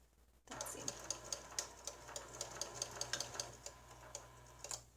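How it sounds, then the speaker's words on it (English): A sewing machine stitches a fabric face mask, its needle thumping in a fast, steady run of close, moderately loud clicks that start abruptly after a brief pause, with a low motor hum underneath. "So now I'm just going to sew, double check and make sure that's all flat."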